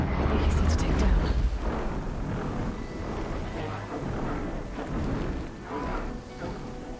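Crackling lightning from a large flying machine, twice the size of a Glinthawk, in Horizon Zero Dawn, heard as a dense, rumbling electrical roar with sharp bursts that stays loud and continuous throughout.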